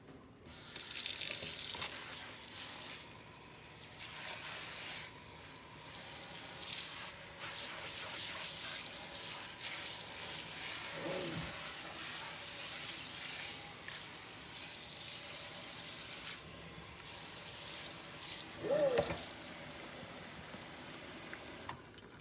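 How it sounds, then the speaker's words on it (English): Tap water runs into a kitchen sink during a rinse after dishwashing, a steady hissing spray that changes as the flow moves, with brief interruptions and splashes along the way. "Our last step is to rinse the sink"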